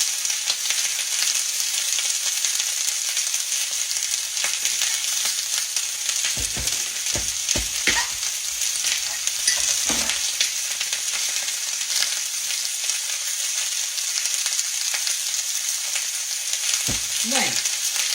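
Squash and red peppers stir frying in a pan on a stovetop turned down to medium, giving a steady, dense sizzle throughout with a few brief clinks and scrapes of a utensil partway through.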